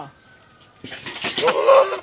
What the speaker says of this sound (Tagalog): ito po yung ating mga alagang kambing